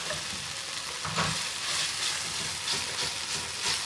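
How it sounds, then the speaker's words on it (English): Kashmiri paste frying with garlic prawns in a pan, giving a steady close sizzle with brief crackling bursts and stirring scrapes throughout, no talking. "So that's sizzling away nicely now, well combined."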